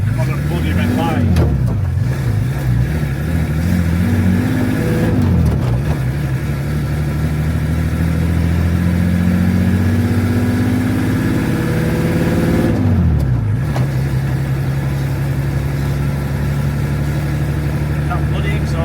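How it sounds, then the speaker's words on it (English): A van engine idling and revving at a red light in a vanlife protest convoy in Morecambe, with a rumbling exhaust and rising, falling revs close by, while people talk over it. "That bloody exhaust."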